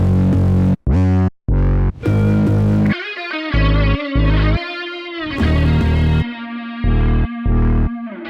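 A loud, heavily processed hip-hop beat with booming bass hits and distorted, chopped melodic stabs, punctuated by abrupt gaps and echoing effects.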